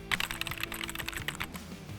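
Rapid clacky keystrokes on a Corsair K70 RGB Pro wired full-size mechanical gaming keyboard, a steady flurry of close, crisp clicks with no talking.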